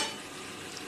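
Fritters of coriander, cabbage and green chilli fry in hot oil, giving a short, soft, continuous sizzle with faint bubbling and no voices.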